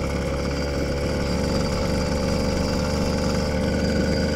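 A small motorized bicycle engine buzzes steadily at around 4,800 to 5,000 RPM, loud, close and unchanging in pitch, with no talking over it.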